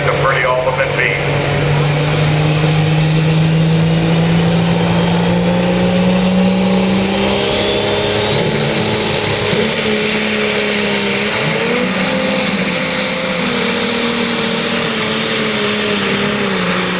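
A pulling tractor at a tractor pull roars at a sustained, loud, steady drone, its engine note climbing and shifting as it works down the track, heard near and continuous throughout.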